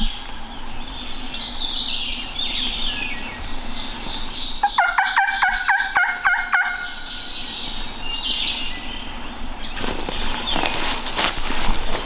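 A rattling gobble from wild turkeys rolls in from far off in Hocking Hills, answered by more faint gobbles amid steady outdoor birdsong.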